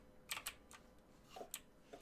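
Sparse computer keyboard keystrokes during a Halo CE match, a handful of quiet, irregular clicks spaced across a couple of seconds over a faint background.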